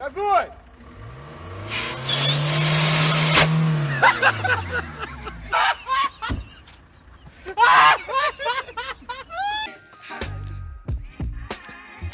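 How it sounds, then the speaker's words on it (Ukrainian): A Lanos car with punctured tyres races in GTA Ukraine, its engine rising in pitch as it gathers speed, then droning and revving while a voice speaks over it. "вийшов на пряму дорогу та стрімко почав набирати швидкість"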